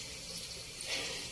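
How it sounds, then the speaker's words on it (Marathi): Hot water is poured into a simmering gravy for stuffed brinjal, a brief, faint splashing trickle heard alone. "तर आपण आता त्यामध्ये पाणी ऍड करतोय"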